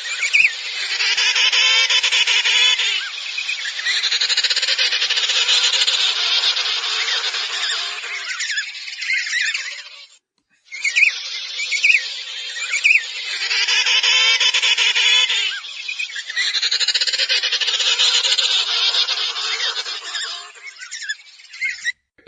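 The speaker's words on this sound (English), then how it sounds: "I will play some of the chirping and braying because it is definitely unique compared to the other penguins" Emperor penguins chirp and bray in loud, continuous honking calls that come in long bursts, with a brief pause midway.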